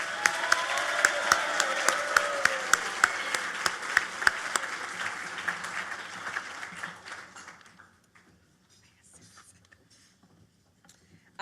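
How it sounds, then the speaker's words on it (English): An audience at a benefit dinner applauds a sponsor with steady clapping, sharp individual claps standing out, until it fades out near the end, leaving near silence. "Please join in applause to acknowledge the generosity of Georgica Green"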